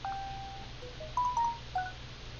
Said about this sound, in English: Might want to turn the notification tones down.